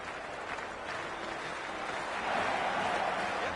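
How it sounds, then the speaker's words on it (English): Crowd at a cricket stadium during a Lahore Qalandars versus Islamabad United PSL match, a dense, continuous wash of applause and cheering that swells slightly toward the end. "There's an almost tangible fervour throughout the crowd at the moment."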